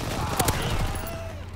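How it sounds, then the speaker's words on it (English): Gunfire in the Call of Duty WWII video game aimed at infantry near a tank: a couple of sharp shots over a steady game soundscape with a low engine-like drone, with no talking. "They fire on the infantry by the tank"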